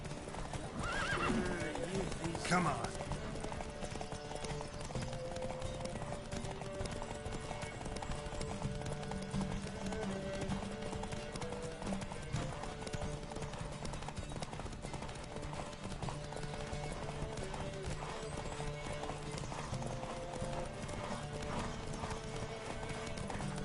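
Hooves clip-clop steadily through a video game horse race, with a neigh or whinny near the start, running continuously under game music and a voice urging the horse on.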